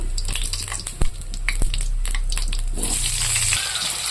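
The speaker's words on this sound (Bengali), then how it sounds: "দিয়ে আমি আলুগুলোকে সুন্দর করে ভেজে নেব।" Potatoes fry in oil tempered with cumin, dried red chillies and bay leaf, a dense close sizzle with a couple of sharp utensil knocks.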